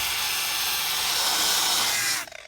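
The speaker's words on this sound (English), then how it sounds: "The further I go with my grinder, the more filler I find on this thing." An angle grinder stripping body filler from the quarter panel of a 1969 Charger, a loud, steady, high-pitched abrasive whine that runs continuously and then cuts off abruptly near the end.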